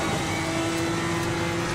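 A Porsche GT race car engine in Assetto Corsa Competizione at Zolder drones at a steady, sustained pitch, a continuous whining hum with no talk.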